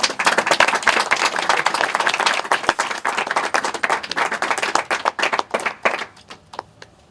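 An audience claps in a dense burst of applause that holds strong for several seconds, then thins to scattered claps and fades out.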